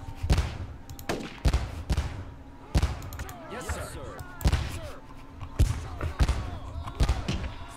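Gunfire in the Korean War strategy game Theatre of War 3: Korea, with a run of loud, sharp shots and bursts spaced through the clip, trailing echoes between them and a voice talking over the battle.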